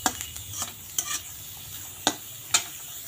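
Garlic, green chilli and onion toss in a dry wok without oil; a handful of sharp, close spatula scrapes stand out over a quiet background hiss.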